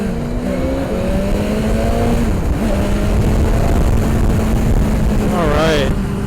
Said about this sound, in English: This engine, it's smooth, but you feel it.